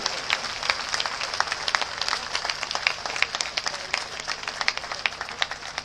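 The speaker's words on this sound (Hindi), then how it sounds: "तालियां बजनी चाहिए और जोरदार" A crowd at a political party workers' rally claps and applauds steadily, a dense patter of many hands at moderate distance, with no voices rising above it.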